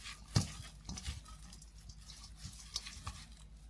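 Seasoned spinach being tossed by hand with sesame oil: soft, wet squishing and patting in irregular handfuls, quiet and close, with no voices.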